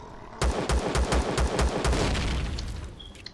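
Rapid automatic gunfire from the Empyrion: Galactic Survival video game, a burst of about ten sharp shots in quick succession, then a fading echo and a faint tone.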